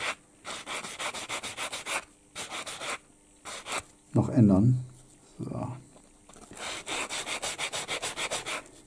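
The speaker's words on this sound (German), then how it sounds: "Dieses Schleifvlies eignet sich übrigens hervorragend für eben genau solche Sachen wie Rundung" Abrasive sanding fleece rubs a part for a Bergepanzer 2 Standard recovery tank scale model in quick, rhythmic back-and-forth strokes, pausing while someone speaks briefly in German, then resuming.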